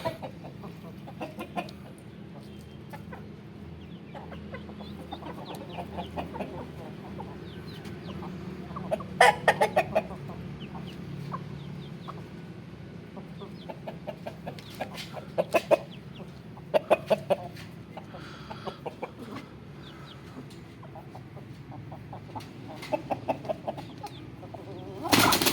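A rooster and hen cluck and squawk loudly while fighting over a continuous scuffling background, with sharp bursts and wing flaps close by.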